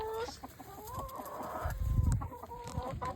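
Backyard chickens, including Easter Eggers, Silkies, Sapphires, reds and blacks, cluck softly and irregularly nearby, with a few louder calls over a low outdoor background.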